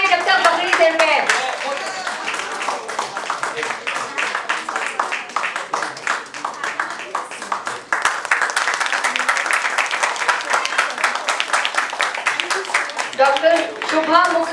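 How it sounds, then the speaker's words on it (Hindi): Continuous audience clapping rolls on without a break at a world record and book launch event, dense and loud for about fifteen seconds, with voices audible on top. "तालियां रुकने ना पाए."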